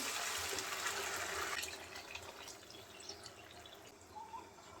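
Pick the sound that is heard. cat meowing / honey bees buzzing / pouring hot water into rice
pouring hot water into rice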